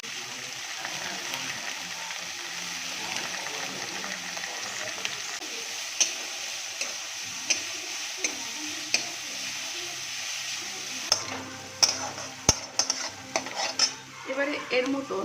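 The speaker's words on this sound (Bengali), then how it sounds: "কেটে রাখা গাজর বিন এবং ক্যাপসিকামটা তেলের মধ্যে দিয়ে দেবো" Chopped carrot, beans and capsicum hiss in oil in a pan for a vegetarian semolina upma, with a constant sizzle at first. Clinks and scrapes from a metal spoon stirring the pan grow busier toward the end, and a voice speaks briefly.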